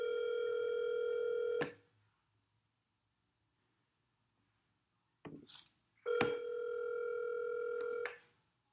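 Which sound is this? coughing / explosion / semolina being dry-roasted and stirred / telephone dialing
telephone dialing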